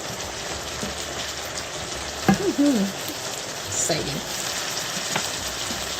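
A steady, soft sizzling bubble of tomato sauce simmering in a pan, continuous throughout, with a brief spoken word partway through.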